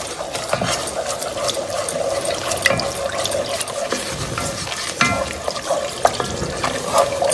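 Milk is poured and stirred into a sauce in a pan on very low heat for beef lasagna, giving wet scraping, sloshing and gentle sizzling with irregular clinks throughout, no talking.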